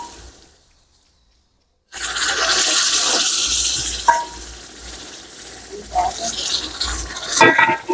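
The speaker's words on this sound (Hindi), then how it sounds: "अब मैं स्लोली इसमें पानी डालती हूँ" After a moment of silence, sugar syrup is poured into semolina halwa cooking in desi ghee, setting off a loud hissing sizzle and bubbling, with stirring clatter near the end.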